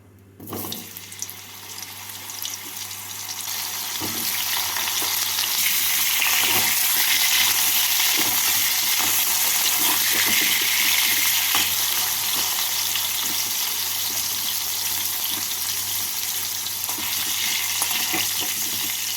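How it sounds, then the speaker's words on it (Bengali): Pumpkin pieces frying in oil give off a loud, steady hiss of sizzling that swells after a brief start and holds for a long stretch, with occasional stirring scrapes. "এবার কুমড়োগুলোকেও হালকা করে ভেজে নেব"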